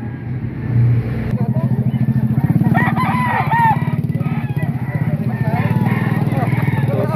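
A rooster crows loudly and close by at a busy Baliwag market, with an engine rumbling and people talking around it.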